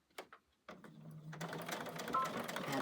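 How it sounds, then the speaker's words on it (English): A sewing machine backstitches fabric for a bowl coozie: a couple of short mechanical taps and a brief stitching burst, then a steady, rapid whirring run of stitches close by. "I think I'll backstitch that a little bit."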